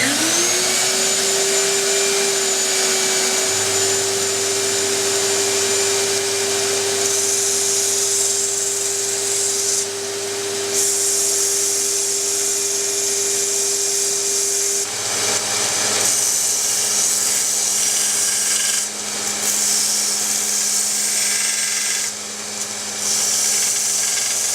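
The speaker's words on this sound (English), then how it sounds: "Then you take it over to the belt sander and you grind those edges." A belt sander grinds the edges of a metal frame with a loud, continuous high whine and abrasive hiss that holds steady for the whole stretch, with brief shifts in pitch as the work is pressed against the belt.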